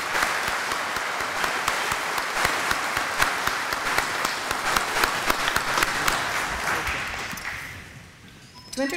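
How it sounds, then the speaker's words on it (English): A graduation audience applauds award winners at a 2018 ceremony, a dense, steady wash of many hands clapping for about eight seconds before fading to quiet, with a faint sound returning at the very end. "Let's give our award winners a big round of applause."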